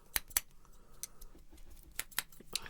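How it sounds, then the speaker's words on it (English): Scissors snip during an ASMR haircut, a few sharp close-up metallic cuts spaced irregularly against a quiet background, with no talking. "Use my lovely scissors."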